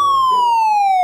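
A police car siren wails loud and close, one sustained tone sliding slowly downward for the full second with nothing else around it.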